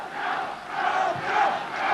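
A football crowd at a Sydney United versus Sydney Olympic match roars in a sustained, swelling cheer behind their team, distant and broad, with no voices standing out.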